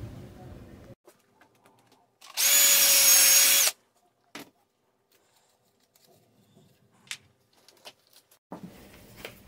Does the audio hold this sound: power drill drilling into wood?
yes